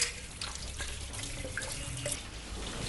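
A kitchen tap runs steadily into a sink for washing dishes, giving a continuous close splashing hiss with a few brighter drips throughout.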